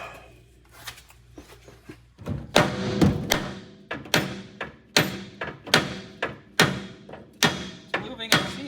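Hammer blows banging on the lower control arm of a 1956 Ford Thunderbird, a few scattered taps then a steady run of about a dozen sharp metallic whacks at a regular beat, close and loud.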